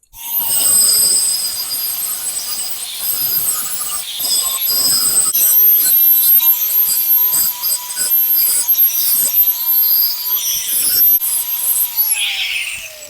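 A wire wheel on a grinder scours metal on a snapped lawn mower wheel to prepare it for welding, making a loud continuous high whine and rasp with a steady tone and short dips.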